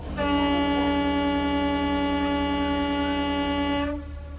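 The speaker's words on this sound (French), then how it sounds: "Je vais mettre un coup de corne de brume," A single long, loud, steady ship's fog horn blast with a rich harmonic tone, held for about four seconds before cutting off abruptly, sounded on approaching a river bend.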